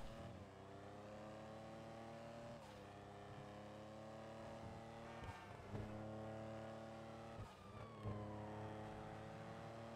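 Engine of a sports car driven in GTA V Online, a steady loud harmonic drone that rises and falls as it shifts and revs, with brief dips and bumps, continuous for the whole stretch with no talk.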